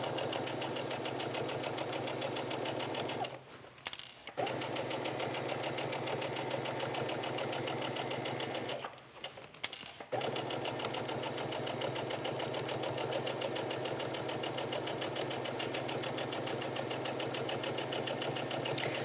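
Sewing machine stitching a seam in vintage linen, a steady fast mechanical whir and hum running continuously, briefly pausing twice, close and moderately quiet.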